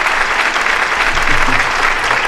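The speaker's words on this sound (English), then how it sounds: "You get your own round of applause." Loud, dense audience applause on a gun-themed show, a continuous wash of clapping with a brief low voice murmuring beneath it.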